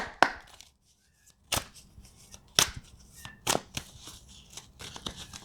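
Tarot cards being shuffled by hand, a series of sharp riffling snaps and soft slides, close and irregular, with a brief quiet pause early on.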